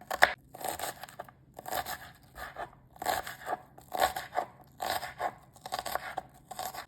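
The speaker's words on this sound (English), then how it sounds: "Chop 2 onions, it will be around 200 grams." Two onions being chopped with a knife on a board, a close series of crisp crunching cuts in quick bursts with short pauses, no talking.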